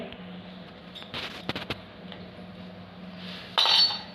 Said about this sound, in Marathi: चमचा ह्याच्यामध्ये आपण चमचा ठेवूया